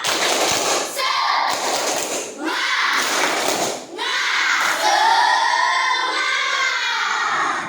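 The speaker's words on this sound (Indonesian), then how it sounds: "kita bikin tepuk semangat dulu untuk menambah semangat kita hari ini" Schoolchildren in a classroom perform a rhythmic clapping chant to lift their spirits, loud patterned claps alternating with shouted group chanting in several bursts.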